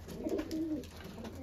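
A pigeon gives a brief, faint low coo, a single soft rolling call heard close by in a quiet setting.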